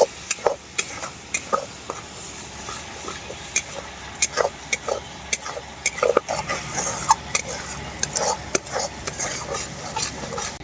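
Spice paste with turmeric and a little water being stirred and fried down in a pan for a goat meat curry, repeated sharp spatula taps and scrapes over a soft background sizzle.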